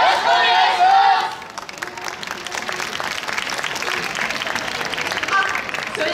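An audience claps along at a yosakoi dance performance at the Sakura Town festival, a loud burst at first that settles into steady, quieter clapping with crowd noise underneath.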